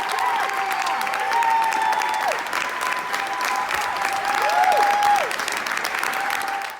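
Members of the New York State legislature fill a chamber with loud, sustained applause and cheering, dense clapping that swells and holds for several seconds with shouts rising above it.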